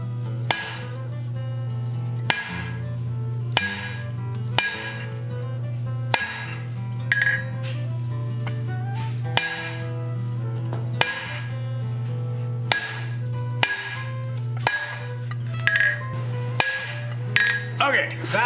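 Hot metal is hammer-forged at the tip of an anvil's horn for a chess piece, with about fifteen sharp, ringing strikes at an uneven pace over a steady low hum.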